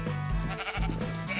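Sheep in Minecraft bleat loudly and close up, one drawn-out wavering cry that breaks off briefly and resumes, with no talking over it.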